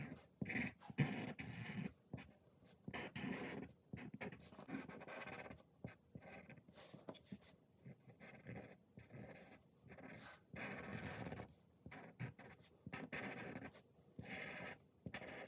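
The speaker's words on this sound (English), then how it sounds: "Now I'm gonna take my big Sharpie and go around the outside." A big Sharpie marker traces the outline of a drawing, making close, quiet scratchy strokes in an uneven rhythm with short pauses between them.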